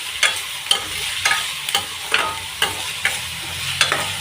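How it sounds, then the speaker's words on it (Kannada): Food being stirred as it fries and browns in a pan, with a utensil scraping in steady, repeated strokes about every half second over a continuous close sizzle. "ನಾನು ಏನೇ ಅಡುಗೆ ಮಾಡ್ತಿರಲಿ ಜಾಸ್ತಿ ತಿರುಗಿಸ್ತೀನಿ"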